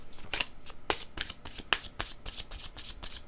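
Tarot cards are shuffled by hand up close in a quick series of crisp riffling flicks and soft slaps, with no voices over them.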